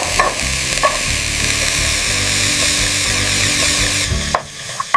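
Minced beef frying in a pan as samosa filling, a loud continuous sizzle with stirring scrapes, easing off in the final moments.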